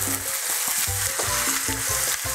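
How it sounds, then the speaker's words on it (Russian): Flour-dusted oxtail pieces fry in a pan with a loud, continuous sizzle and crackle, broken by short scraping and stirring knocks, with no voices. "Обжариваем, ребята, до золотистого цвета."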